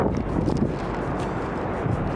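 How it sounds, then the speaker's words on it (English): Strong wind roaring across the microphone in a constant, heavy rumble, with no voices. "I'm like crying because it's so windy."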